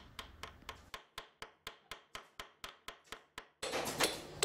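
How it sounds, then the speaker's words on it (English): A light hammer taps nails into timber planking on a clinker-built dinghy, about twelve sharp evenly spaced strikes in a steady rhythm, close and clear, followed by a burst of louder rasping noise. "Finish with some tapping around the edge to flatten out any sharp bits."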